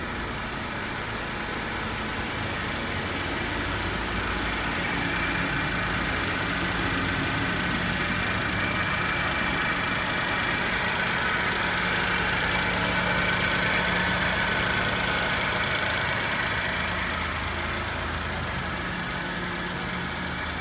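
A Suzuki Khyber 2000 model car idles with a steady, dense engine drone that holds at a constant loud level throughout, with no talk over it.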